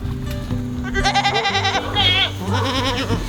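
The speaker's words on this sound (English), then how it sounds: "and I have a bunch of goats." Several goats bleat loudly and close by on a farm, with overlapping wavering cries in quick succession and little pause between them.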